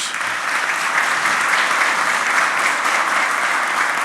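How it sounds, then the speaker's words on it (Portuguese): Sustained audience applause fills the hall at a panel event on the recovery of central Rio de Janeiro, a dense, steady wash of many hands clapping at close range with no talk over it. "Por favor, uma salva de palmas aos nossos"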